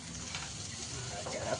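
Chopped tomato fries in a hot pan while being stirred, giving a steady, close sizzle with faint scraping and clinking from the spoon throughout.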